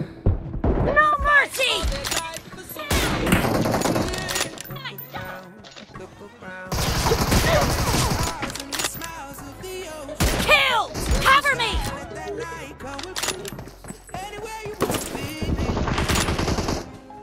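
Gunfire from a sniper montage in the video game PUBG, with loud repeated shots and crashing impacts in dense bursts, mixed with music and voices talking throughout.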